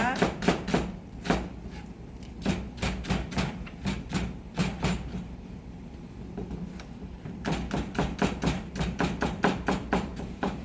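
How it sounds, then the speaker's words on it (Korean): Onion minced with a knife on a cutting board, heard as quick bursts of sharp, rhythmic chopping taps that pause in the middle and then resume. "양파 다져주세요."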